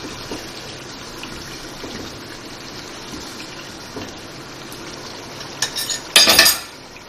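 Chicken pulao cooking in a pot with green chillies and yogurt, a steady low sizzle and frying hiss, then a brief clatter of a utensil against the pan near the end, with no talk.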